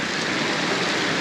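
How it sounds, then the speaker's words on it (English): Heavy monsoon rain pours down steadily over a flooded yard at an RV base camp, a dense, loud, unbroken hiss of water that holds the same level from start to finish. "This is some awful rain."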